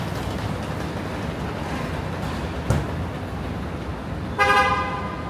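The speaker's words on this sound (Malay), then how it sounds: "the car is coming. This is the car, Toyota." A Toyota car arrives on a street under a steady wash of traffic noise. A short horn toot sounds partway through, and a louder, longer honk comes near the end.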